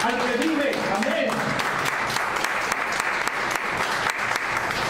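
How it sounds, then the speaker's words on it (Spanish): A church congregation applauds strongly in sustained, dense clapping, with some voices and brief vocal sounds mixed in near the start. "Den una ofrenda fuerte de palmas al que vive"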